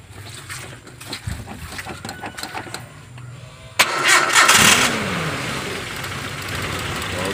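A carbureted Nissan Terrano engine after a new fuel pump: several seconds of cranking ticks, then the engine catches with a loud burst and settles into a steady close rumble, with faint voices early on.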